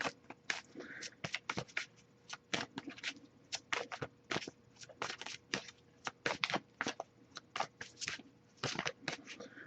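Tarot cards shuffled by hand during a love reading, a steady run of crisp riffling snaps and slaps, close and fairly quiet, repeating in quick bursts with no talk.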